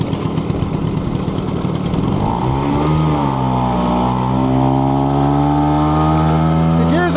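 A 1968 Vespa 150 Sprint scooter engine under way in second gear, loud and close, a busy putter that settles into a steady droning whine as revs climb and hold.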